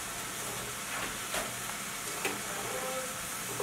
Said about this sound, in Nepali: अब फ्राई हुने काम हुँदैछ गजब चिकन फ्राई हुँदैछ